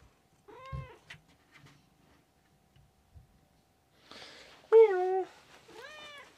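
A cat meows several times indoors: one clear meow near the start, a pause with faint noises, then a cluster of loud, close meows toward the end.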